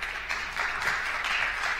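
Brief applause from an audience at a talk, a soft, steady patter of clapping lasting under two seconds.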